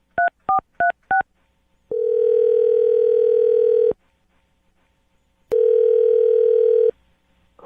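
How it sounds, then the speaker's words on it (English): A telephone call being placed: four quick keypad dial tones, then two long ringback tones separated by a pause, loud and clean with no voices. "All right, Kim, I'm going to dial the phone number right now"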